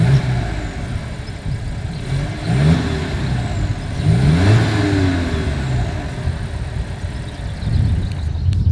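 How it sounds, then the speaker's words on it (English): A 2022 Volkswagen Jetta's single-outlet exhaust rumbles close by, with the engine revving up twice in sweeping rises and settling back to a steady idle, no talking over it. "As always, here is that exhaust clip."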